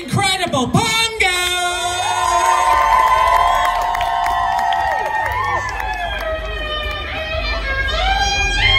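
A festival crowd cheers, whoops and applauds for an act being introduced, a loud sustained roar of voices after an announcer speaks briefly at the start.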